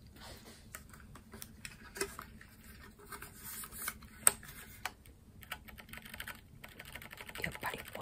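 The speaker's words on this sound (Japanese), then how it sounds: "やっぱり音がめちゃめちゃ静かで、打鍵感が茶軸めちゃめちゃ最高です" Typing on a Keychron Q3 Pro mechanical keyboard fitted with brown switches: soft, fairly quiet keystrokes in an irregular, steady rhythm, a few sharper clacks standing out, heard close up with no talking.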